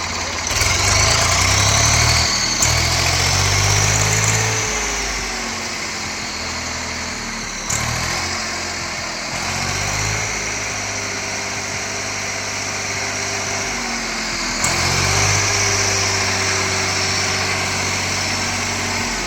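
Swaraj tractor diesel engine, freshly fitted with a new pump, idles steadily and close by with a smooth low throb, briefly revving up at a few points before settling back to an even run.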